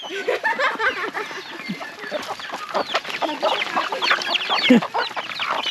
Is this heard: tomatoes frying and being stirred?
no